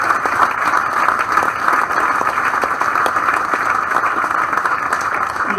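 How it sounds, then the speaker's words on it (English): An indoor audience breaks into sustained applause at a community gathering, a dense, steady wash of many hands clapping that keeps going at an even level throughout. "So give them a round of applause,"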